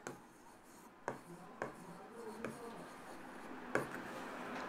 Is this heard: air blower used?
no